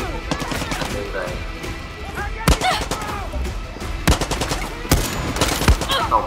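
Gunfire from the video game Far Cry 6 on PS5, with several bursts of rapid automatic shots and sharp single cracks over game background noise.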